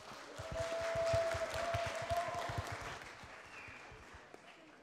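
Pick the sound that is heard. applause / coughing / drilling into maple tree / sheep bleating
applause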